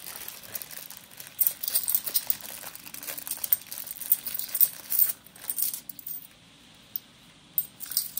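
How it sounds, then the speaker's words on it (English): Metallic clinks and jingles of 50p coins jostling together, a busy run of bright clanks with brief pauses, fairly close and without any voices. "let people enjoy the clanking of the coins"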